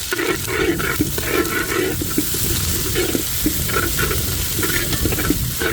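Onion, garlic and crushed ginger fry in hot oil for a country-chicken kootu, a loud continuous sizzle broken by repeated scraping stir strokes, with no talking.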